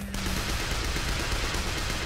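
Gunfire in the video game School Girl Zombie Hunter crackles as a dense, continuous stream of rapid shots, close and fairly loud, with no talking over it.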